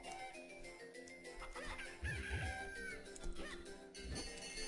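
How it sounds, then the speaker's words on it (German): A white chicken in The Legend of Zelda: The Minish Cap clucks in short, quiet bursts alongside soft game music, with a few faint crow-like calls mixed in. "Da ist das weiße Huhn."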